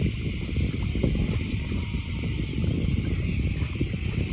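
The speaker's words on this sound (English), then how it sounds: "You can hear the engines now." Boat engines rumble steadily across a summer bay, a continuous low drone mixed with wind noise on the microphone, with no voices present.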